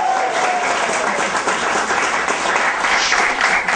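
Steady, loud applause from an audience before a song is performed, a full continuous wash of clapping that holds at even strength, with faint voices mixed in underneath.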